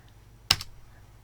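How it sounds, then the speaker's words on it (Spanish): A single sharp computer-keyboard keystroke, part of using the Shift and arrow keys to select cells in Excel: one close click followed by a faint second tap, then quiet room tone. "se pueden utilizar las teclas Mayús y las flechas"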